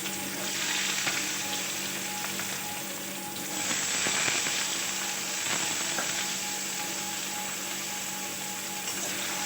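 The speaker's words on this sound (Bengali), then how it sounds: "গোটা জিরে আলুগুলো দিয়ে দিলাম" Potatoes and whole cumin seeds sizzle steadily in hot oil, a continuous close frying hiss with faint crackles that swells slightly partway through, no voices.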